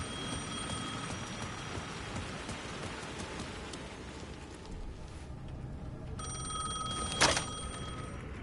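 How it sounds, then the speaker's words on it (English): An old telephone rings in the horror video game Alan Wake 2, its bright electric bell bursting briefly near the end over a steady wash of heavy rain and faint distant rumble. "The phone was ringing again."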